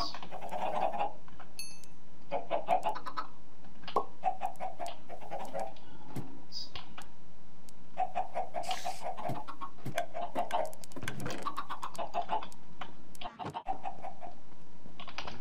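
Repeated soft clucking from Minecraft chickens in short bursts, with small clicks and ambient game sounds in the background.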